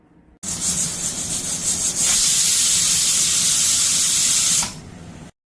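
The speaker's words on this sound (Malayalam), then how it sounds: "അതാ നമ്മുടെ 2 കുക്കറിൽ നമ്മുടെ 2 ഐറ്റംസ് റെഡി ആയിക്കൊണ്ടിരിക്കുന്നു. ഇനിയിപ്പോൾ നമുക്കിതിൻ്റെ വിസിലൊന്ന് കേട്ടാലോ" A pressure cooker on a home kitchen stove lets out a loud, steady steam whistle and hiss that swells, holds for a few seconds and then cuts off.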